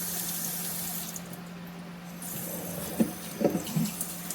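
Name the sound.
watering a plant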